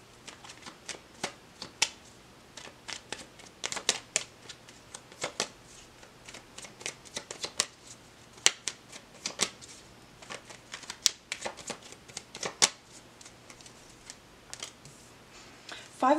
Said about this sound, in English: Let's get the first card for the second energy on the table.